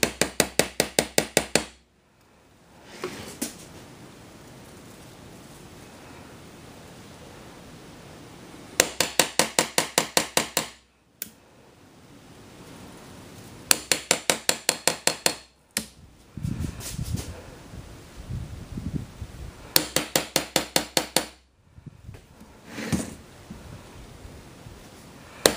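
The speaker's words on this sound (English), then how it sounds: "I need to chisel this out" A hammer strikes a chisel into wood in bursts of rapid, sharp metallic taps in quick rhythmic runs, separated by pauses with softer scraping and shuffling noises, close by.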